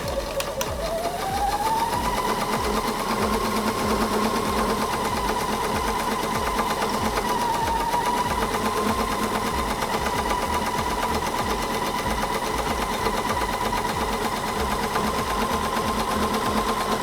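A sewing machine stitches one long continuous seam, running with a steady, rapid mechanical chatter and whirring motor hum throughout, close and uninterrupted.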